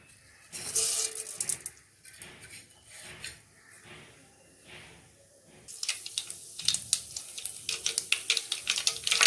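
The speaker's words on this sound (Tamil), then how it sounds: "இப்போ கடுகு பொரிய ஆரம்பிச்சிருச்சு" Mustard seeds spluttering in hot oil in a kadai, scattered sharp pops and crackles that thin out briefly before a rapid burst of crackling, close with no talking.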